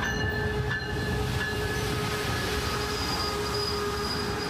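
A train on the coastal railway tracks in San Diego rolls by with a steady, moderately distant rumble and faint wheel squeal, with no voices.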